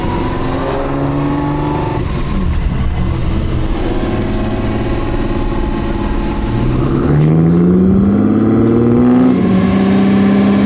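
A Ferrari 250 GT short-wheelbase California Spyder engine revs and accelerates close by, its pitch climbing through the gears as it drives off, loud with no voices.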